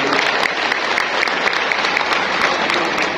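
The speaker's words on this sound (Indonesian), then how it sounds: "boleh tepuk tangan oleh semua di sini" Steady applause from a crowd at a political rally in Malang, Indonesia, a dense wash of clapping hands that continues evenly throughout.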